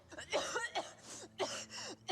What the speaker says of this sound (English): just turn and cough in somebody else's mouth, why don't you?